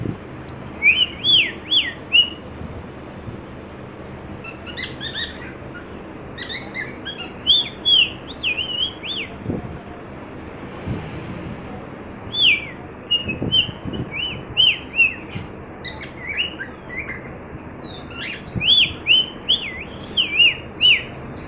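Bird calls ring out in repeated bursts of bright, whistled chirps, clear and fairly close, clustered in short phrases with pauses between them over a soft outdoor background.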